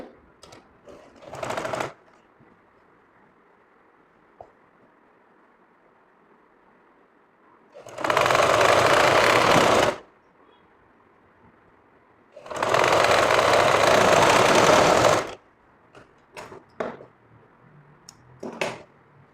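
Two loud, close bursts of a sewing machine stitching a shirt back panel, each lasting a couple of seconds, separated by quiet handling and faint rustles of fabric.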